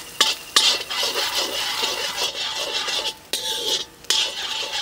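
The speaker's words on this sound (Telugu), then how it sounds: "ఈ ఉల్లిపాయలు 3 నిమిషాల పాటు వేయించుకోవాలండి." Garlic and onions frying in oil in a pan for veg Manchurian, a constant close sizzle broken by repeated clinks and scrapes of a stirring utensil against the pan.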